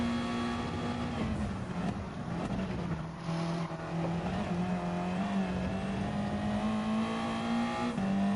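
A race car in Gran Turismo 7 spins backwards donuts, its engine holding a steady, loud drone with slight pitch dips and rises throughout, continuous and close with no voices over it.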